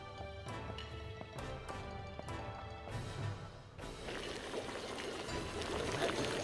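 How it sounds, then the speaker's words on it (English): Soup bubbling as it cooks in the Pokemon Sword video game, a burbling, pouring wash of liquid that swells after a few clicks and plays fairly faintly over background music. "Bubbling."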